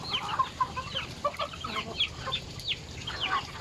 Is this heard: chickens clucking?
yes